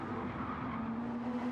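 Porsche race cars in a sim racing game, a steady droning engine note held at high revs as the cars battle closely, loud and continuous.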